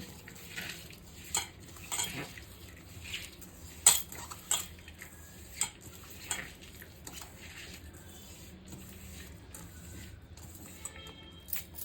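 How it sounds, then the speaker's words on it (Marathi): Onion fritter batter seasoned with ajwain and salt is mixed in a bowl, with soft squishing and scattered clinks of a spoon against the bowl, quiet and close. "ओवा घेते थोडंसं मीठ घेते मिक्स करते चांगलं"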